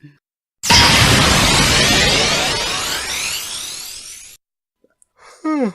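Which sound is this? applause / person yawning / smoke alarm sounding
person yawning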